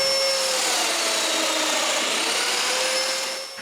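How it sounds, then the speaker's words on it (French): A domino joiner cuts mortises into wooden furniture parts, a loud continuous high whine with a rushing motor hiss, held steady and close before easing off at the end, no talking. "Je marque l'endroit où il faut percer les mortaises et Sarah les perce."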